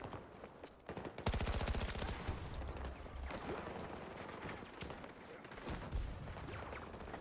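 Rapid bursts from a Scorpion submachine gun in Battlefield 2042, a fast rattling stream of shots followed by scattered firing and battle noise, fairly close and continuous.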